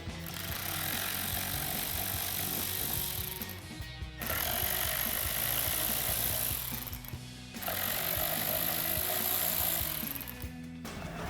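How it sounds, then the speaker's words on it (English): A T20 Torx socket on a power driver backs screws out of a Jeep Gladiator JT third brake light, in three loud whirring bursts separated by brief pauses. "Let's take a T20 torque socket to remove those."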